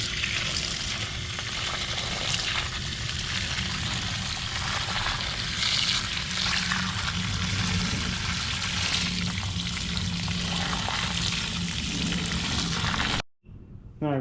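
Low-pressure water rinses a cold air intake filter from the inside out, making a steady, close hiss and splash that runs without a break and then stops abruptly near the end.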